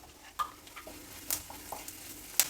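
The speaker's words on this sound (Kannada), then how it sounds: "ಈಗ ಎಲ್ಲ ಚೆನ್ನಾಗಿ ಫ್ರೈ ಆಗಿದೆ" Spices, curry leaves and turmeric fry in a pan for pongal, giving a faint close sizzle broken by light clicks and sharp pops, with no talking.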